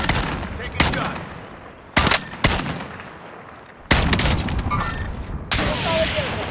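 Shooter video game gunfire: sharp, loud single shots and short bursts at irregular intervals, with one or two sustained volleys, heard over ambient game noise.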